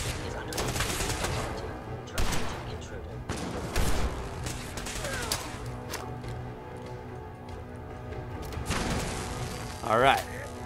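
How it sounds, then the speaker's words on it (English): Pulse grenades exploding in Fallout 4, several sharp bursts and crackling blasts spread across the scene amid combat noise, with a voice talking over parts of it. "We'll throw some pulse grenades in there."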